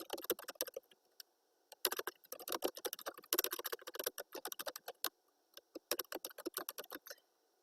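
Someone types a folder name on a computer keyboard, bursts of quick close key clicks with short pauses between runs of keystrokes.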